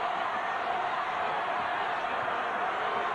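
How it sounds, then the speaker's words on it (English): A packed gym crowd at a 2003 high school state basketball championship roars in a steady, dense wash of noise that holds at an even level without a break. "Listen to this crowd."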